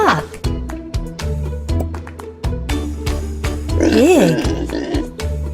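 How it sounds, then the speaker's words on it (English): A pig oinks and grunts with a short, rising-and-falling call near the end, set over steady upbeat background music in a toddler animal-learning piece. "Pig."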